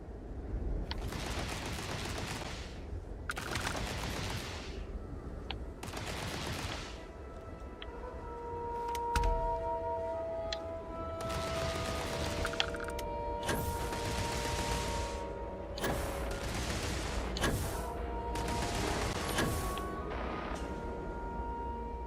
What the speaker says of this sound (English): A lot of firefight going on here.